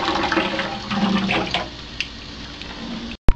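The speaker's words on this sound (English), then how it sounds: "so give me a good rinse" Hot tap water sprays and splashes steadily over the walls of a snake enclosure being rinsed, a continuous close rushing that fades out before a short sharp knock at the end.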